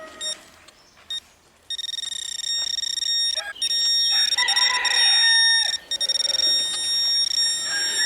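A flock of chickens clucks and squawks in agitated bursts outdoors in a forest while a shrill electronic metal detector tone beeps and whines over them, close and loud, with no talking.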